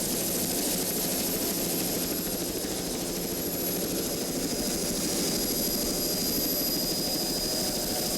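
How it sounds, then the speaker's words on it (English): Team Wanted, a former Super V class offshore racing powerboat, roaring at speed with a steady, dense, loud engine drone and rushing wash that never lets up. "Another former Super V class race boat, Team Wanted"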